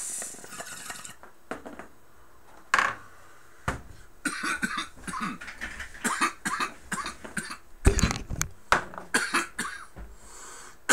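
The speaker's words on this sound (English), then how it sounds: "cough." A person coughs repeatedly in a series of harsh, irregular bursts at close range, with brief pauses and throat clearing between the coughs.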